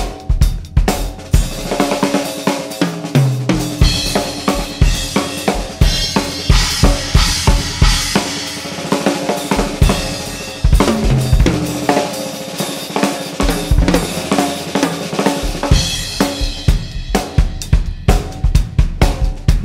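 Full drum kit played continuously with a foot-pedaled hi-hat keeping a steady chick on the beats under kick, snare and cymbal hits, loud and close with no talking.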